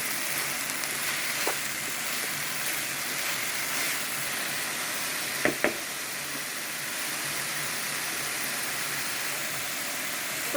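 Hot and sour potato stir fry cooks in a pan, giving a steady broadband sizzle and hiss that runs throughout, with a few brief clinks near the middle and no talking.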